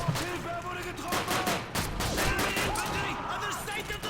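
Pistol and rifle fire in the World War II shooter Call of Duty 2 on the Soviet campaign, rapid overlapping shots and bursts in a noisy battle, with someone talking over it.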